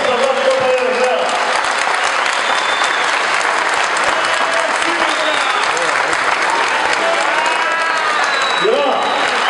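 Loud, dense applause from a crowd welcoming new women members of a Lions-type district club at a lecture event, continuous clapping mixed with voices and some cheering throughout.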